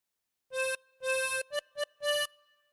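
A tremolo harmonica plays a phrase of Bingo alone: two sustained reedy notes, two clipped quick ones, then a closing held tone, bright and wavering with a soft decay.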